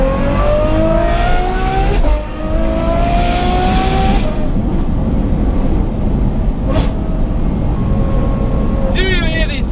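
A Ferrari F12 or Novitec N-Largo engine revs hard through its exhaust, rising in pitch through several gear changes with a loud, raspy roar, close by.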